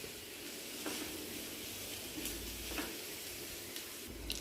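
Crushed boiled potatoes stirred into a frying masala dosa filling in a pan, giving a steady close sizzle with soft scraping stirs and a few louder clicks of the spoon.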